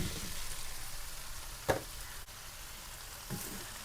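Young jackfruit pieces added to a hot pan with chicken for an Indonesian curry, giving a steady dense sizzle broken by a couple of brief stirring clatters, with no talking.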